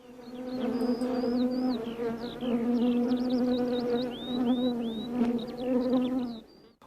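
Honeybees buzz steadily at a feeding station, a dense, continuous drone that stays loud and close throughout, with higher whining tones from individual bees passing near.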